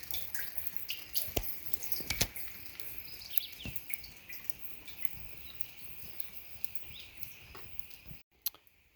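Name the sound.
water dripping into a rain barrel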